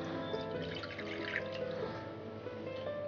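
Water poured into a pot to make syrup for soaking a Sacher cake sponge, a steady continuous splashing and trickling pour heard up close with no voices.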